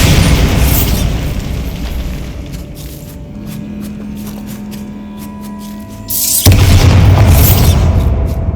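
Bombarda blasting spell in Hogwarts Legacy, a loud booming burst followed by a tonal hum and scattered debris clatter, then a second heavy rumbling blast.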